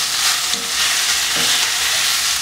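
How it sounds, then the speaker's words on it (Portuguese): Chicken pieces sauté in a pan with garlic and onion, giving a steady, loud close-up sizzle and frying hiss with faint stirring, no voices. "Coloca os franguinhos na panela para começar a refogar junto."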